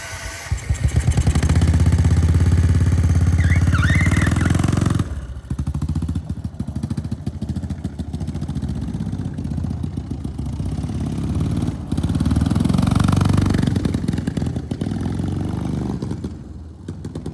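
The small engine of a Little Tikes Crazy Coupe on its first start runs steadily with a rough, chugging idle, loud and close, exhaust smoking, its pitch and rhythm shifting slightly as it settles.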